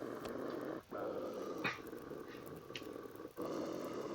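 A wolf in the video game The Long Dark growls in a low, continuous rumble with brief pauses for breath, fairly near and steady.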